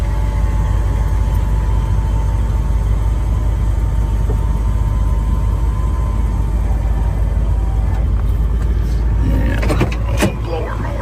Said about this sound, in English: And the blower motor works.